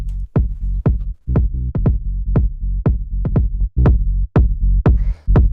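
Deep house kick drum and bass line without saturation, punchy thumping kicks over sustained low bass notes in a steady groove, clean and up front.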